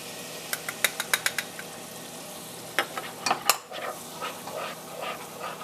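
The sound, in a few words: stirring flour, salt and garlic powder mixture in pan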